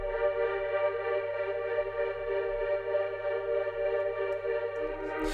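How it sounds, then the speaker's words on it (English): Synth pad in an up-tempo R&B beat, filtered to a narrow midrange band with highs and lows removed and pulsed by a tremolo for a bouncy, throbbing sustained chord heard alone. "I added an EQ, created a bell curve, took out all the highs, all the lows, and then a tremolator for that bouncy effect"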